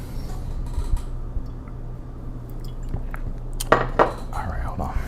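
Glass and dishes clink a few times, with a couple of sharper knocks near the end, amid soft handling noises while someone gets a drink of water indoors.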